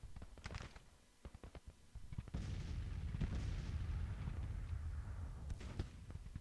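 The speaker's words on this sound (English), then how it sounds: "Bring this artillery forward here. Into that wood line and fire into the enemy rear." Cannon fire from an artillery battery in the Civil War strategy game Grand Tactician, with several sharp booms and cracks spaced irregularly over a continuous low battle rumble, moderately distant.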